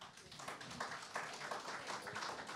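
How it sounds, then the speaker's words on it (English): Applause from a small audience for a panel at a horse racing season launch, a faint, brief patter of scattered clapping heard at a distance. "So you get our panel a round of applause there."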